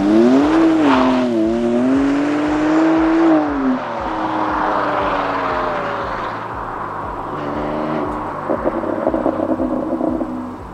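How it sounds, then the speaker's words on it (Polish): A BMW M2 Competition (F87) with an aftermarket exhaust drones and rises with revving, loud and steady as it drives, with pitch sweeping up and down and no talking. "brzmienie układu wydechowego, który jest zrobiony u mnie"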